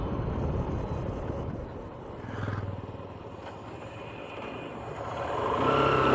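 A motorcycle rides along Nawabganj road and gains speed, its engine rising into a steady roar under heavy rushing wind noise picked up close on a rider's helmet microphone.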